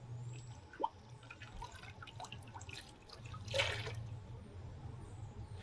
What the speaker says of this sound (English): I came across something looking like a little stream that's running.